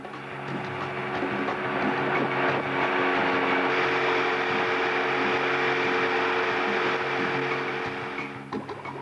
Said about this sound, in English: Finally, we are ready to test the engine.